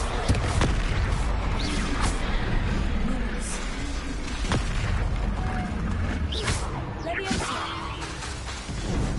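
Confringo spell explosion in Hogwarts Legacy during combat: repeated booms, crashes and whooshing impacts over continuous battle noise, with voices talking over the action.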